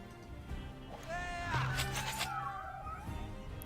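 A summoned cat in the Dofus video game meows with rising and falling tonal cries over steady in-game background noise, clearly audible at moderate loudness.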